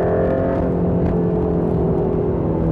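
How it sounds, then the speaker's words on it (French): A Mercedes-AMG GT Black Series on the move, its engine and exhaust giving a loud, steady, high-pitched droning tone inside the cabin, with sound insulation stripped out, and no talking over it. "c'est l'échappement qui va faire un peu la vie et le timbre moteur"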